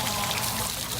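Water pours steadily and continuously during a bath for an 8-year-old golden retriever, a close, full splashing stream that runs without a break.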